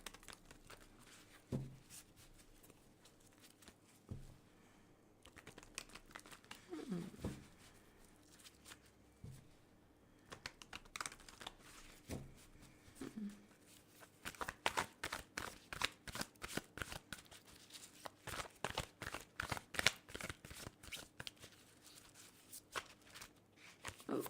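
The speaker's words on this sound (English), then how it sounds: "So let's shuffle this deck several times." A deck of cards is shuffled again and again. Quick riffling bursts and soft taps start sparse, then turn into a dense, steady flutter.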